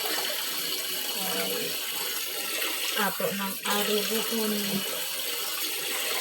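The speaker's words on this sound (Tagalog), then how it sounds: "Atong hugasan ang pako." Tap water runs in a steady, close hiss into a sink while fern (pako) is rinsed for adobo, with brief splashy shifts as the leaves are handled under the stream and a voice speaking over it.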